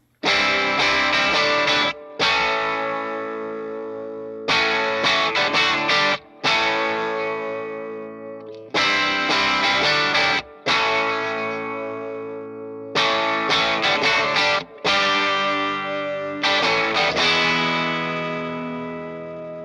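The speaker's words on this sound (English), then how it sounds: "I used the Wampler Plexi Drive going into a vintage small clone Electro-Harmonix chorus" Overdriven electric guitar through a Wampler Plexi Drive and a vintage Electro-Harmonix Small Clone chorus, shimmering, strummed chords ringing out in repeated bursts with brief gaps, played alone and up close.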